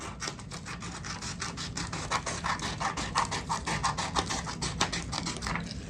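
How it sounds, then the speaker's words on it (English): Scissors snip rapidly through paper, cutting strips in a quick run of crisp, close clicks and rasping cuts with no talk. "use where I cut up to that middle line and go ahead and cut those strips off"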